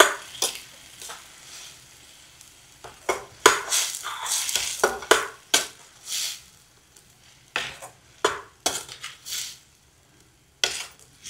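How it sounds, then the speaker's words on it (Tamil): Halva being stirred in hot ghee in a pan: repeated scraping, clinking strokes of a spoon against the pot over a soft sizzle, irregular and close, with no talk. "அந்த நெய்யிலே அதை ஊற்றியாச்சுங்க. ஓகே, கிண்டிப்போம் நல்லா"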